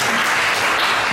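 Brief wash of audience applause at a lecture in a hall, steady and fairly loud throughout with no voices on top.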